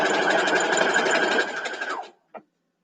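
A sewing machine runs steadily while stitching a quilt's sashing seam, a loud continuous whir that stops abruptly, followed by one short mechanical clack.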